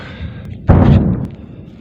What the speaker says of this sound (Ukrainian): Трошки у нас, як завжди, вибухи.